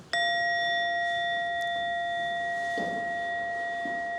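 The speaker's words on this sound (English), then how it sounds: "Let's choose the right bell." A meditation bell is struck once, giving a clear, bright ding that rings on as a steady, sustained tone and fades slowly, with a few faint soft knocks in the background.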